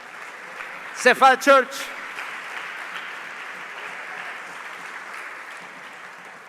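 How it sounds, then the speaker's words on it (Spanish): A church congregation at an Easter sermon applauds, a broad, continuous wash of clapping heard throughout, with a voice speaking loudly over it near the start. "Dele un aplauso al Señor"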